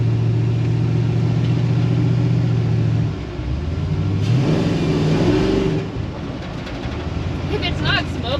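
A junked 1956 Chevy wagon idling then revving on a touchy throttle pedal, the engine rumble rising and falling in loud close bursts, with someone talking over it.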